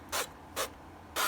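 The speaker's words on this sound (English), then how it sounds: "We're just gonna go ahead and spray these with some olive oil" Three short hissing bursts of olive oil spray coat chicken wings, evenly spaced with brief silences between them.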